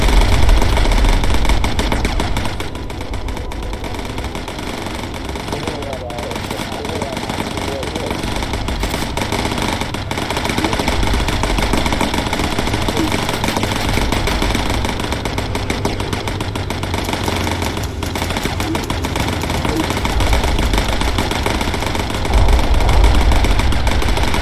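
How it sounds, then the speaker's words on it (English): Bomber Crew gameplay, where diving bombers roar and machine guns chatter in a dense, loud, continuous mix of engine drone and rapid gunfire, steady from start to finish. "hear those stupid bombers diving"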